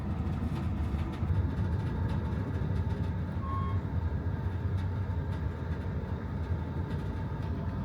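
The Amtrak Texas Eagle train rolls through Texas, its continuous low rumble and rattling wheel noise steady throughout, with a brief faint tone partway through and no one speaking.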